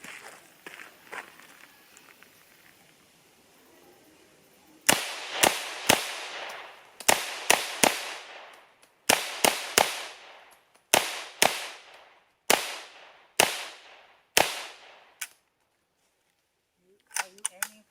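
Gunshots from a PAK 9 pistol fitted with a folding brace ring out as about fifteen sharp, loud reports. They come in quick pairs and short clusters with brief echoing tails, followed by a few faint sounds at the end.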